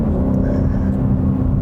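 A 2022 BMW M3 Competition xDrive under acceleration gives a steady, loud engine drone and low rumble heard from inside the car, with no voices.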